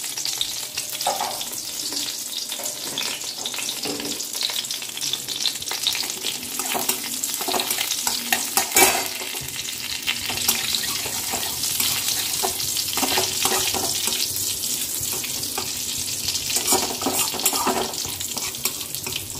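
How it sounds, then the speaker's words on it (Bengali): Cumin seeds sizzle and crackle in a hot pan for tempering, a steady, fairly loud frying hiss that runs throughout with occasional bursts and stirring scrapes. "জিরেটা একটু ভাজা ভাজা হোক।"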